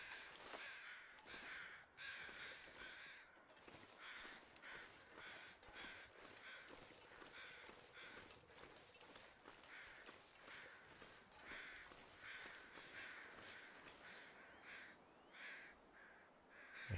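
Crows caw repeatedly in the snowy wilderness of the survival video game The Long Dark, a chorus of harsh calls layered over steady wind and faint footsteps with no talk.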